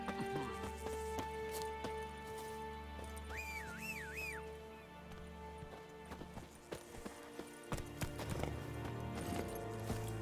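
A horse in The Witcher 3 gallops with quick, rhythmic hoofbeats amid game music and ambience, with a short whinny partway through; someone speaks briefly.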